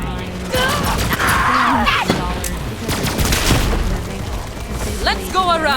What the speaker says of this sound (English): you can see when you shoot it, it's shooting dollars